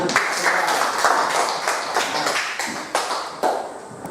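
A classroom of students clapping their hands together, a quick run of fairly close rhythmic claps lasting a few seconds, slightly uneven and fading toward the end.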